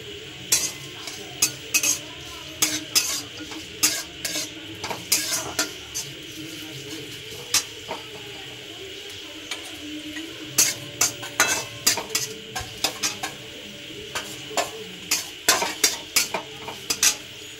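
Chopped onion fries in a little hot oil in a kadai for Mughlai paratha, a soft sizzle under frequent sharp scrapes and clinks of a metal spatula stirring against the pan, close and steady throughout.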